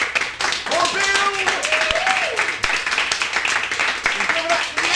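Audience clapping for an improv player introduced at a live improv show, steady dense applause under an excited host's voice speaking over it.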